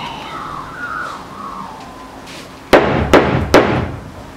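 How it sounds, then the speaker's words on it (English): Three sharp, loud hammer blows on a sandal being repaired land about half a second apart, following a quieter stretch with faint background sounds. "You have to push all the bits down and then whack with a hammer."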